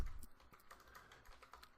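Someone types an address on a computer keyboard, quiet close-up clicks in a quick, uneven patter with no talk.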